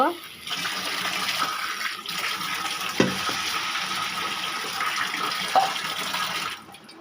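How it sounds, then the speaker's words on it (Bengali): Water splashing and gushing steadily into a pan of fish and spices for several seconds, a continuous rushing sound with a couple of small clanks. "এবারে পানি দিয়ে দিব"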